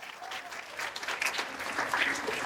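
An audience at a women's empowerment event applauds the sponsors, a short burst of fairly dense clapping at moderate-low level with faint crowd murmur beneath.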